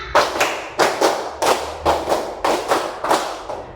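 A classroom full of students claps in a counted pattern, eight or so sharp unison claps in a steady, even rhythm, loud and close, with no voices over them.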